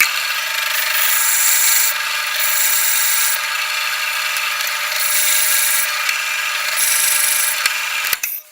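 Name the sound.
drilling a hole for a threaded insert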